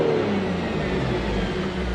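A heavily modified car engine revs loudly and steadily up close, a dense, continuous roaring rumble with no voices over it.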